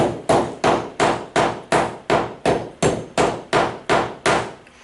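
A hammer strikes a mock roof about a dozen times in an even, steady rhythm while testing for rafters, each blow a loud, close, solid thud.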